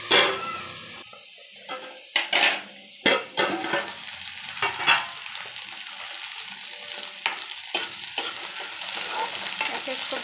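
Cluster bean sabzi sizzles in a pan while a spoon stirs it, making repeated scraping strokes over a constant frying hiss, close and fairly loud.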